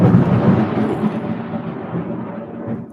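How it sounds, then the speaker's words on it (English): Thunder in Miami, a loud deep rolling rumble that sustains for three seconds and slowly fades, with no talking over it. "Woo, that thunder is thundering, boy."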